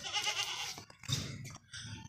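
Several goats at a livestock sale bleat nearby in a few short, wavering calls separated by brief pauses.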